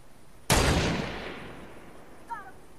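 A single loud sniper rifle shot in a battle-royale video game cracks sharply and its echo fades over about a second, with a brief short call heard faintly afterward.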